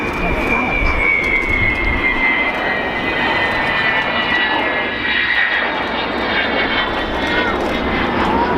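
Avro Vulcan XH558 bomber passing overhead at an air show, a loud, sustained roaring engine drone with a slowly shifting whine, close and dominant throughout.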